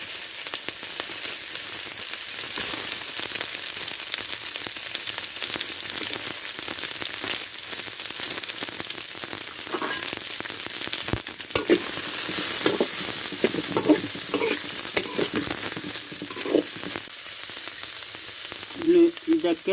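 Onions frying in a pan for a dry fish curry give a continuous crackling sizzle, with occasional stirring clatter growing busier toward the end.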